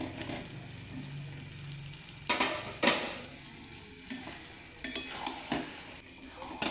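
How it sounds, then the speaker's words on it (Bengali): Chicken pieces tipped into a pan of chilli chicken sauce and stirred, with soft sizzling under a few sharp utensil scrapes and clanks against the pan, fairly quiet and close. "এবার এর মধ্যে চিকেনগুলো দিয়ে দেবো।"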